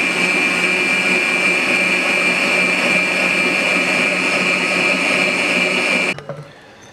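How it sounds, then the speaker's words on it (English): An electric mixer beats carrot cake batter with a loud, steady, whining motor hum up close, then switches off abruptly near the end. "So I'm going to hit the mixer again and hopefully get this all incorporated"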